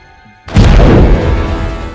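A loud, deep explosion from the 1992 film Alien 3 bursts in abruptly after a quiet moment, then sustains as a heavy rumbling roar and slowly fades.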